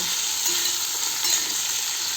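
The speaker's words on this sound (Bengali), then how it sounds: "এটা এখন ভাজা হতে থাকুক" Potatoes and flat beans frying in a pan give a dense, even sizzle, loud and close, throughout the short stretch.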